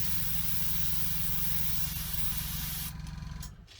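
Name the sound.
cheap KK Moon airbrush spraying paint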